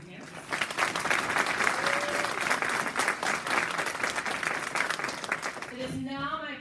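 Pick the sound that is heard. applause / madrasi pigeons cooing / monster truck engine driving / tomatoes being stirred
applause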